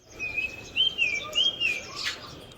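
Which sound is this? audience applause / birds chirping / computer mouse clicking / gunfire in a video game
birds chirping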